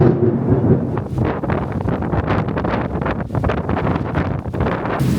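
Strong wind gusts during a thunderstorm roar and buffet against the microphone in a continuous, loud, rough rush with rising and falling surges and no speech.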